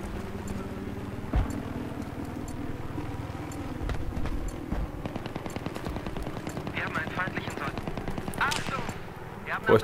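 Gunfire crackles through a Battlefield 3 multiplayer match on the Noshar Canals map, with dense, rapid shots and scattered sharper cracks amid battle noise, while someone talks over it.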